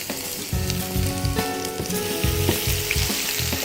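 Chopped garlic hits well-heated ghee and sizzles loudly and steadily, with a dense hiss and crackle and some gentle stirring knocks. No one speaks over it.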